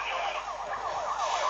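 Wailing police car sirens rising and falling continuously, several overlapping and fairly close, steady and loud throughout.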